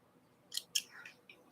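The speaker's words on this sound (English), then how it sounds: "Cut off extra threads." Scissors snip off stray threads from a string-pieced quilt block, two quick close snips followed by a softer trailing cut in a quiet room.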